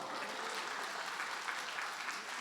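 Church congregation clapping during a Korean evangelism testimony service, a steady dense wash of many hands filling the room, even in loudness throughout without a break.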